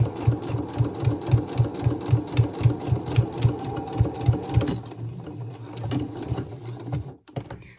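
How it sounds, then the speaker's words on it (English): A sewing machine stitches down the seam of a coat, a loud close mechanical chatter with a steady rapid rhythm that runs for about five seconds, then slows and stops with a few softer clunks. "So I'm going to stitch all the way down."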